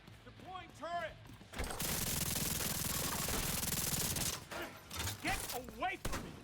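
A deployed turret in a video game unleashes a sustained, loud burst of rapid gunfire lasting a few seconds, with voices before and after it.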